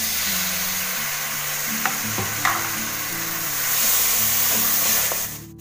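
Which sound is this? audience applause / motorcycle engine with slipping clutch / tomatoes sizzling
tomatoes sizzling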